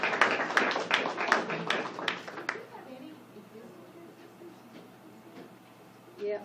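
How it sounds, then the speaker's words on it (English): Crowd at a business plan pitch night breaking into a short burst of clapping that quickly fades, followed by a speaker talking on a microphone. "So give yourselves a big round of applause."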